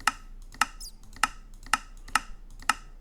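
Sharp, crisp clicks of a computer mouse during a Minecraft-style modded game session, six or seven evenly spaced taps about half a second apart, close and clear over a quiet background hum.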